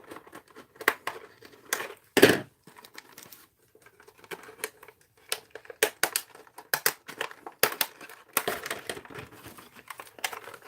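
Scissors snip and slice through plastic unboxing packaging for a toy car, making close, irregular crinkling and crunching bursts with one louder rip near the start.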